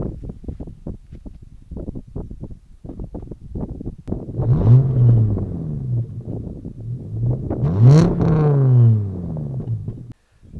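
Close, loud 2.4-litre naturally aspirated engine in a high-mileage Volvo V70, idling with a low grumble, then revving twice in rising and falling sweeps.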